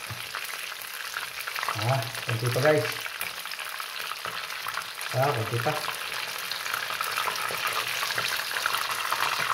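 Sliced pork belly frying in a pan, a steady close sizzle and crackle of hot oil throughout, with someone speaking briefly over it a few times.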